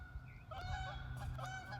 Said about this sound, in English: Can you hear that? They are Canadian geese coming in for a photo opportunity.